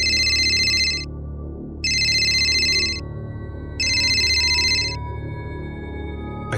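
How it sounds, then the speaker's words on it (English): A phone rings loudly for an incoming call, three evenly spaced bursts of a bright electronic ringtone, each about a second long with short gaps, over a low background hum and no talking. "my phone rang loudly, indicating an incoming call"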